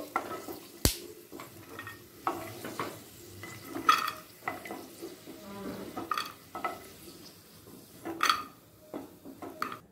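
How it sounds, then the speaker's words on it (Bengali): Cumin seeds with chana dal and urad dal frying in a pan for sabudana upma: scraping stirs and light metallic clinks over a faint crackling sizzle, no talking. "ওই একই প্যানে দিয়ে দিচ্ছি জিরে, 1 চামচ ছোলার ডাল, 1 চামচ বিউলির ডাল,"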